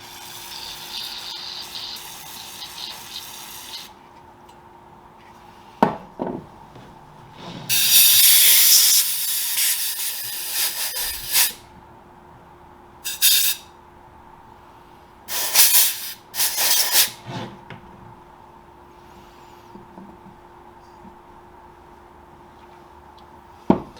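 Compressed air blasts through a Suzuki DR200 carburetor in several short, loud hissing bursts, one longer spray and a few quick pops, separated by quiet gaps with a faint steady tone.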